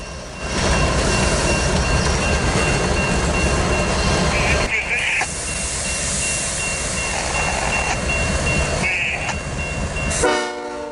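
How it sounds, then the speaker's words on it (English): CN grain train switching cars at night on a winter prairie line: loud, close rumbling and clanking of rail cars with a train horn and squealing tones, a brief lull midway, and beeping near the end; voices are heard over the noise. "This was the first CN grain switching job I've seen out here"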